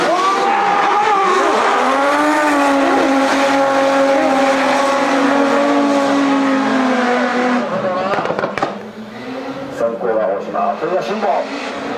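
A race car screams past at lap speed, its engine holding a loud, sustained high-revving tone that sweeps in pitch as it passes, then drops away, leaving quieter track noise and a commentator talking.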